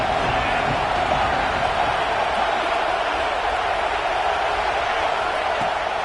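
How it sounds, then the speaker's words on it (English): Football stadium crowd at a Michigan vs Penn State game, a steady, loud roar of many voices building and cheering as the defense takes the field, with no single voice standing out. "This crowd rising up, sensing that its defense needs some help."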